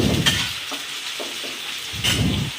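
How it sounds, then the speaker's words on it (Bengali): Chopped onion and garlic fry in hot oil, a steady close sizzle with a few clinks and scrapes of stirring. "তেল দিয়ে দিলাম, তেল গরম হওয়ার পরে পেঁয়াজ কুচানো, রসুন কুচানো দিয়ে নাড়াচাড়া করে"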